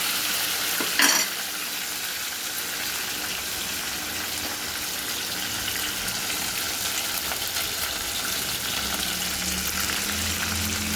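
Green chillies frying in hot oil for instant mango pulihora, a loud, continuous close sizzle with a brief metallic clink of the stirring utensil near the start.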